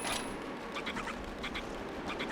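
Ducks quacking in Zelda: Twilight Princess HD, a few short quacks in clustered bursts over a steady ambient game background, moderately close and fairly quiet.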